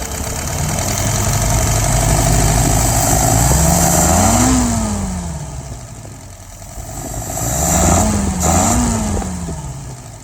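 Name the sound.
engine being pulled through and running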